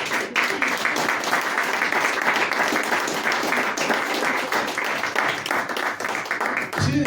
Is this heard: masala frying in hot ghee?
no